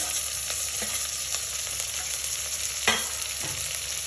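Chopped tomato and green onion sizzle in a hot pan, with a steady frying hiss and a few soft scraping stirs of a spatula, no voices.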